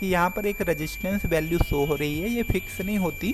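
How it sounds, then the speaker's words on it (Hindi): A multimeter gives a steady, continuous continuity beep while a geyser heater element is tested. The thin tone runs unbroken beneath someone talking throughout. "मल्टीमीटर के हमारे अंदर बीप साउंड आ रहा है"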